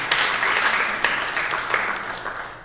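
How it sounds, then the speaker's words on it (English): A church congregation breaks into warm applause, a dense patter of clapping that rises quickly and then slowly tapers off, with a few voices murmuring beneath it. "Yeah, you can applaud."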